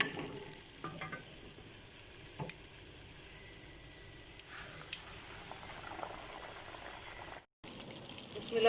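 Zinger chicken pieces fry in hot oil, giving a steady, fairly quiet sizzle that swells after a few seconds, with a few soft clinks and no talking.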